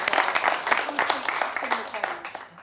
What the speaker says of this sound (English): Can we just give a round of applause for Faye and that amazing work?